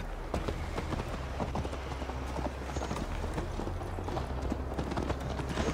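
Horse hooves in Assassin's Creed Valhalla beat out a steady, fast clip-clop rhythm close by for the whole stretch over a constant low rumble, with no talk.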